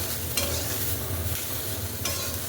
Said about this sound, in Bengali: এবারে সব কিছুকে বেশ ভালো করে মিশিয়ে নেব।